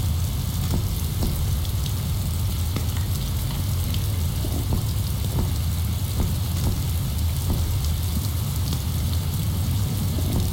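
Steady rain in the Survive wilderness survival video game, a continuous dense hiss with scattered soft patters, loud and even throughout with no talking.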